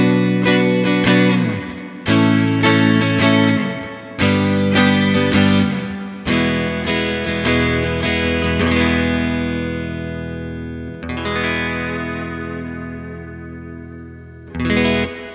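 Electric guitar played through an Electro-Harmonix Holy Grail Neo reverb pedal on its plate setting, loud strummed chords ringing out with long shimmering plate tails, a few pauses and restarts, no talking.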